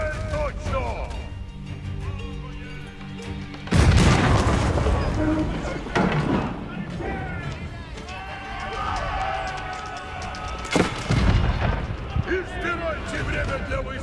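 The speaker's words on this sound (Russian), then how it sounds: "Орудие да ощутят гнев нас. Стреляйте в цель точно." Cannon artillery fire in the Age of Empires IV battle game, two heavy booming blasts some seconds apart amid ongoing battle noise, with voiced unit commands spoken in Russian over it.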